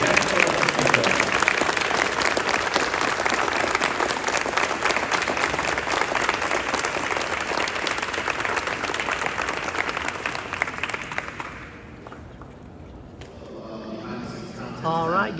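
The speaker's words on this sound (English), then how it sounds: "Another round of applause." A large audience at a Hendrick Motorsports 40th anniversary exhibit event gives a long round of dense, steady applause that fades out near the end, after which a few faint sounds follow.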